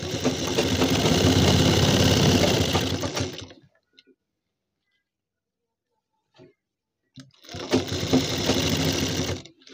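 A close, loud sewing machine stitches a strip onto a kurti neckline, running steadily for a few seconds, stopping for a quiet pause, then starting up again.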